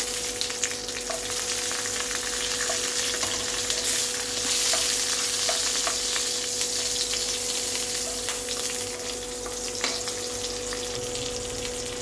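Nigella seeds and green chili frying in hot oil in a pan, a steady loud sizzle with occasional stirring clicks and scrapes, continuous and close with no voices.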